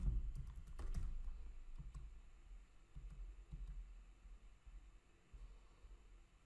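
Fingers typing a password on a computer keyboard, a quiet run of soft clicks over a low hum, with a brief cluster of keystrokes early on.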